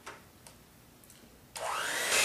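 An electric mixer beating chocolate orange pie filling with Jell-O, quiet at first with a few light knocks, then a loud steady whirring drone as it starts up and runs close by.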